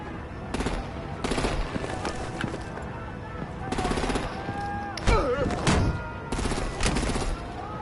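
Rapid artillery gunfire in the video game Batman The Enemy Within, repeated bursts of loud automatic shots in several volleys, with crashing impacts and a shouting voice between them.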